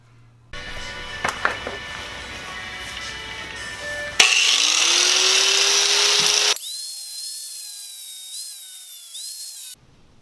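A power tool trims a car's brake dust shield during a Supra/SC300 caliper rebuild, whining steadily with a shift to a louder, harsher grinding section before settling into a high tonal whir and stopping.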